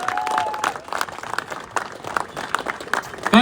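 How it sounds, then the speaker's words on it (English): An audience at a farmers' rally claps in a steady patter, moderately loud, with a brief tone at the start and a louder burst near the end. "Let's give Paul a large round of applause for Paul."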